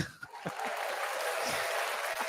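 A crowd cheers as a sound effect in a podcast, with a steady wash of applause and cheering at moderate level and faint low thumps underneath.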